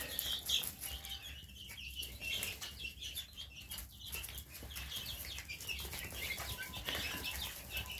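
Barnyard hybrid chicks, bred from a Rhode Island Red cockerel, scurry out from under their brooder toward the feed, with soft peeping, a flutter of wings and light scratching, all faint and close.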